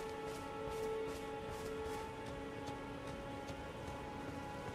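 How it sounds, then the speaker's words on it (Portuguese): Rain in the video game Elden Ring, a steady, faint wash of falling water beneath sustained tonal game ambience, with soft periodic patters throughout. "Pô, tá chovendo, mano"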